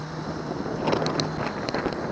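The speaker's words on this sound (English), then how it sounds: "Yamaha 70 horsepower." A boat pushed by a 2019 Yamaha 70 hp outboard cruises slowly near a bay bridge, its motor a low steady drone under buffeting wind noise on the microphone, with a few sharp knocks partway through.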